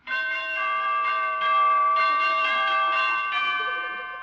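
Church bells for a wedding ring out in a bright, sustained peal, several overlapping strikes sounding in steady succession, loud and resonant, with the tones lingering and slowly fading at the end.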